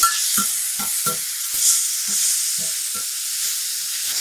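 Chopped onion being stirred with salt in a pan for kanda poha, with a steady frying sizzle and several distinct scraping stirs of the spatula, close and clear with no talking.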